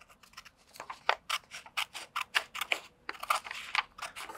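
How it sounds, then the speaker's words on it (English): Scissors snip through a sheet of paper in a series of short, crisp cuts, close and clear, about a dozen in quick irregular rhythm with no talking. "take the scissors and very carefully we cut the sheet in the middle"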